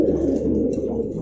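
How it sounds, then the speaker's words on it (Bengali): Pigeons at a fancy-pigeon seller's loft coo in a dense, continuous low warble, several birds calling at once up close, with no talk. "দেখতে পাচ্ছেন ডাকতেছে কবুতরগুলা"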